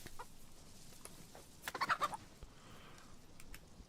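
A hen in the video game DayZ clucks in a short burst of several quick, fairly close calls in the middle of a quiet stretch, with faint ambient noise around it.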